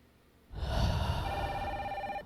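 A phone rings suddenly after a quiet pause, a bright electronic ringtone with sustained tonal notes and a low rumble, continuing steadily and moderately loud with no talk over it.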